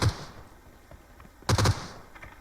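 Short bursts of gunfire in PUBG Mobile, one quick shot at the start and a tight three-round burst a moment later, sharp and fairly close against a quiet background.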